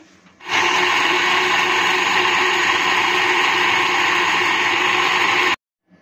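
A kitchen blender whirs at full speed while making a mango shake, starting abruptly after a moment of quiet, running as a loud steady whine for about five seconds, then cutting off.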